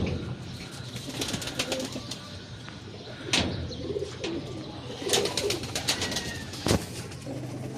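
Pigeons cooing in a pigeon loft, soft low repeated coos with occasional sharp wing flaps and rustling, moderately close over background noise.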